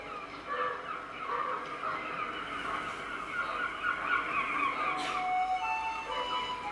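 Dense, busy waterfowl calling, with overlapping honks and quacks from a flock, continuous and fairly close throughout.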